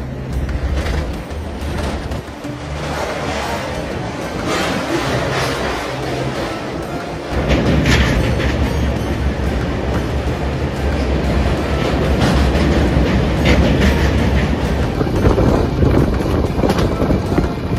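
A passenger train rumbles across the Godavari bridge, a continuous heavy roar with rattling wheels and rushing wind that grows louder and denser partway through.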